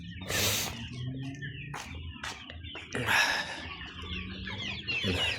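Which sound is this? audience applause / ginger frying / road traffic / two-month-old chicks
two-month-old chicks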